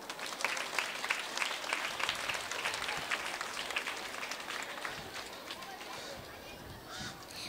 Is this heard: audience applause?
yes